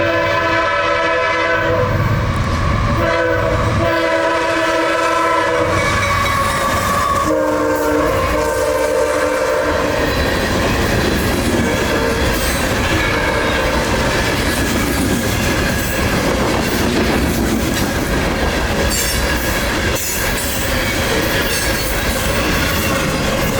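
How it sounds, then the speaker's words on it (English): A long intermodal container freight train, Tampa to Jacksonville in Florida, rumbles past close and loud, its horn blaring at the start, then a continuous roar of wheels and rattling cars. "With that next train being Tampa's nightly intermodal run to Jacksonville"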